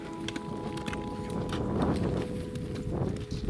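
Horses walk along with a steady clip-clop of hooves, mixed with rustling and outdoor noise, in British Columbia backcountry.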